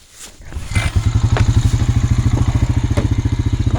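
An abandoned Honda Rancher ATV engine, sitting unused for six years, catches and settles into a loud, steady, rapidly pulsing idle with a lumpy mechanical throb close by, no talking over it.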